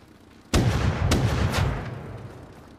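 A cannon-like gun fires three heavy booming shots in the video game Rust, one loud blast followed by two more about half a second apart, with a rumbling tail fading out afterward.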